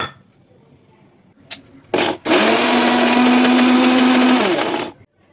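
After a couple of clicks, a mixer grinder grinding masala with a little water roars up loudly and whirs steadily for a few seconds, then cuts off into quiet.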